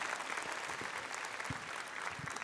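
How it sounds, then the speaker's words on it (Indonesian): Audience applause at a live on-stage talk show event, a dense, continuous patter of clapping hands from a crowd, steady throughout at moderate loudness. "Kita kasih tepuk tangan."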